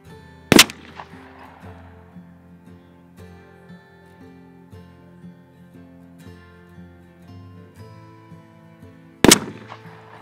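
Two sharp, loud 12 gauge shotgun blasts fire turkey loads, tungsten super shot and lead, at paper targets outdoors, spaced about nine seconds apart, with a quiet hum between them.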